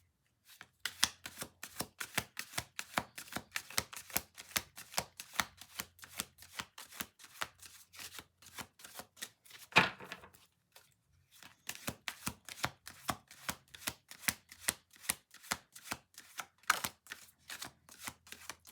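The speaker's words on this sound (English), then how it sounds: "Let's do 2 more shuffles." A long run of sharp, quick ticks and flutters, close and steady, breaks off briefly near the middle and then resumes at the same brisk pace.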